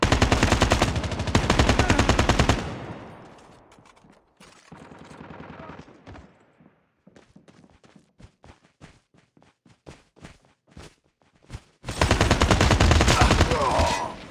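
An LMG machine gun in the mobile shooter COD Mobile, Gun Game mode, roars in two long, loud sustained bursts at the start and end, with scattered single shots and footstep-like clicks in the quieter middle.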